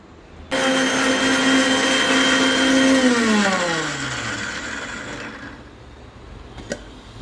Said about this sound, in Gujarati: હવે આપણે એનું મિક્સર જારમાં પીસી લઈશું.